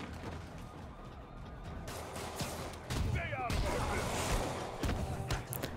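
Gunfire and explosive blasts from a Spider-Man video game, with machine-gun bursts and a missile launcher, rattling in loud clusters over a busy game soundscape while someone talks over the action.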